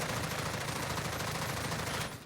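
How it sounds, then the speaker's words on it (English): An M4A1 rifle hip-fired in the Warzone video game unleashes one rapid, sustained automatic burst, loud and close, with evenly spaced shots running unbroken before trailing off at the end. "Go ahead and do a hip fire test with the M4A1."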